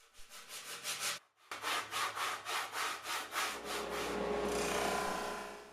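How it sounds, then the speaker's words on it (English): A sanding block rasps back and forth along the flat edge of a wooden cutting board in about a dozen quick, even strokes, close and clear, ending in a longer smooth rub. "For the flat edges of the board, I just used a sanding block."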